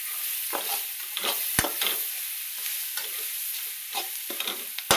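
Sprouted matki moth beans sizzle in a pan with salt while a spoon stirs them, giving repeated scraping strokes over a constant frying hiss.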